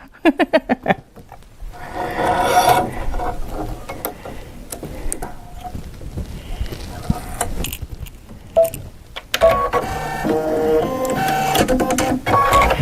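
A sewing machine runs for quilt piecing with no thread in the needle, a fast steady mechanical whirring with rhythmic clicking that stops and restarts, loud and close, with no talk.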